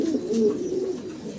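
A pair of very large lark pigeons cooing inside a cage, a low rolling coo heard up close, steady and moderately loud for the whole moment.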